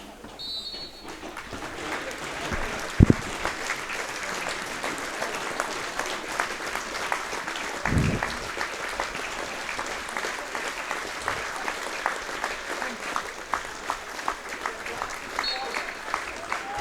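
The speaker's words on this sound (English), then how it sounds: "So that minute's applause comes to an end by the whistle of Lloyd Wilson" A football crowd at a Stranraer match giving a minute's applause, sustained distant clapping throughout with a few louder thumps, a commentator's voice over it.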